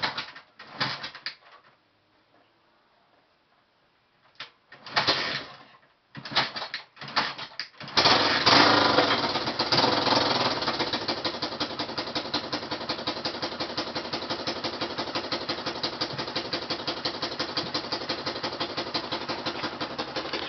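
Honda XL 185 motorcycle with a new muffler starts after a few bursts, then idles steadily with a fairly quiet, even rhythmic putter close by.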